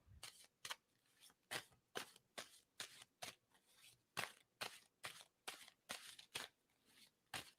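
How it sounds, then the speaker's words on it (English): A deck of playing cards being riffle-shuffled over and over at close range, a steady rhythm of crisp bursts about twice a second, with no talking. "And I'm going to stop shuffling on that."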